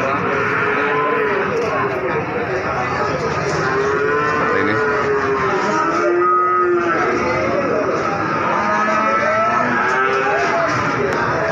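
Many cattle moo at a busy livestock market in Wonoasih, Probolinggo, East Java, where young calves and Limousin cattle are traded. Overlapping moos sound steadily throughout, with no break.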